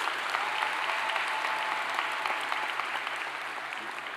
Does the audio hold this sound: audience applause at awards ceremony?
yes